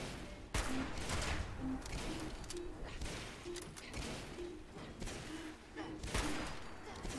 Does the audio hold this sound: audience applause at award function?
no